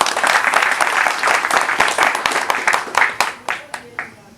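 A live audience claps at a speech event, loud, dense applause that gradually thins into fewer, separate claps and fades out near the end.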